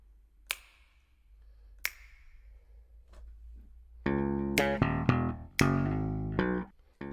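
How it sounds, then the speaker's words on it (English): Household objects and finger snaps from the Ting percussion app by Clevergrand: two isolated sharp snaps, a few soft taps, then a loud run of pitched, ringing percussive hits in a quick rhythm, with no talking. "Ting is from Clevergrand, and it's basically a little percussion box where all of the sounds are things you'd find around the house, or finger snaps"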